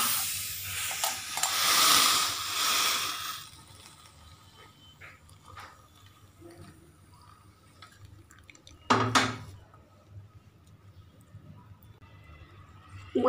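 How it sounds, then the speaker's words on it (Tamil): Freshly boiled guava leaf tea is strained, with a hissy pouring rush over the first few seconds, then quiet with small clinks and a sharp clatter of utensils near the end. "இப்போ வந்து நம்ம வடிகட்டிக்கலாம்."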